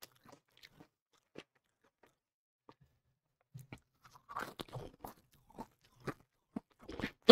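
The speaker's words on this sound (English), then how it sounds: "I need to get closer to my mic so you can really hear me chewing it." Potato chips crunched and chewed very close to the microphone, scattered crisp bites and chews, sparse at first then denser, with no talking.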